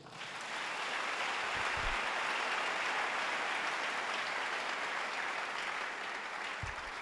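Applause from a church congregation, a loud, sustained clatter of many hands that stays even throughout, with a couple of low thumps and no talk.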